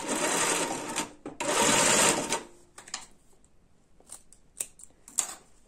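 A sewing machine stitches ribbon onto a handmade bag in two loud, rapid bursts of needle clatter, followed by quieter intermittent clicks and short stitching taps.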